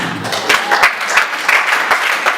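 A church congregation applauds Jesus during a Sunday worship service, giving close, loud, steady rhythmic clapping with regular beats that carry on throughout.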